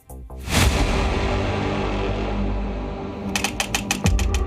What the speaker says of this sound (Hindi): उनके समर्थकों ने उनके सामने अंधाधुंध फायरिंग की।